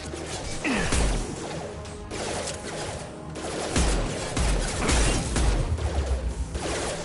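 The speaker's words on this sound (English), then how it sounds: "Impact imminent." A violent crash impact in the video game Mass Effect 2, a dense run of loud smashing, metallic clatter and rapid bursts like gunfire and explosions that rumble on for several seconds with little speech.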